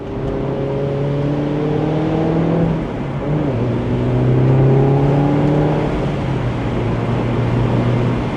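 A Mini Roadster JCW drives along, its engine humming and rising through gears with steady road and wind noise, the revs climbing, dropping at a shift, then climbing again.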